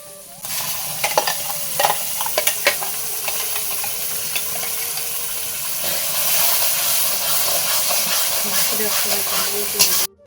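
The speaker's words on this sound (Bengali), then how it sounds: "মশলাটাকে আমি কষানোর জন্য কিন্তু কড়াইতে বসিয়ে দিয়েছি" Spice masala sizzles loudly in a karahi during cooking of a duck meat curry, a thick steady hiss with clanking spatula strokes early on, growing denser toward the end before cutting off abruptly.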